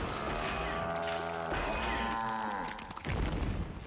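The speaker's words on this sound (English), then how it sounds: "Why do they just keep mooing at each other?" Cattle in Metal Gear Solid 4 moo repeatedly in a game scene, with long, overlapping low calls that swell and fade, followed by a brief rumbling thud near the end.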